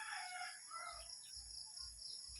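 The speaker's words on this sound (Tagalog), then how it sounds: "Kasi ang ingay na yung mga manok." Roosters crow in the distance in the early morning on Siargao island, Philippines, several calls overlapping against a steady background hiss, with low thumping sounds recurring at regular intervals.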